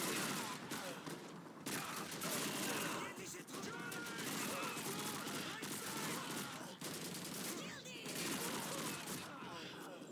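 Sustained PPSh submachine gun fire in Call of Duty 2, loud and dense bursts filling the whole stretch with barely any pause, other battle noise mixed in.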